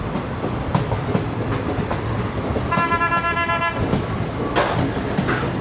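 The Shalimar Express rolls steadily around a left-hand curve on the route toward Faisalabad, with rail clatter and wheel noise throughout and a brief, high, whining squeal partway through.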